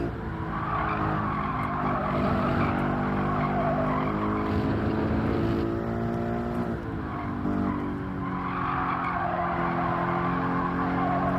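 Tires squeal continuously as a car understeers through a corner in Gran Turismo 7, a steady tonal screech layered over the droning race engine, loud and unbroken.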